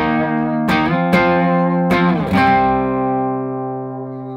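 Fender Telecaster played through a Greer Lightspeed organic overdrive pedal into a clean Morgan RCA35 amp, set as a slight boost: a sustained, mildly driven chord with four sharp strums, ringing on and slowly fading.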